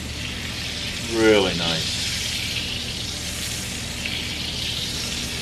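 Butter bison burgers with cheese and onion sear steadily in a skillet, a loud continuous sizzle and crackle throughout, with a brief spoken remark near the start.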